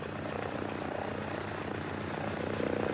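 A steady, droning aircraft engine hum from a plane in distress near an airport, continuous and even in loudness throughout, with no voices over it.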